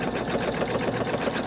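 An embroidery machine stitches a quilted half bowl cozy in the hoop, giving a rapid, even mechanical chatter of needle strokes at close range with no voices.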